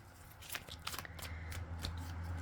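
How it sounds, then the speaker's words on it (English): Tarot cards shuffled by hand in a hot, sticky room, giving a steady, close riffling rustle with repeated soft flicks and slaps over a low background hum. "It's hard to shuffle the cards."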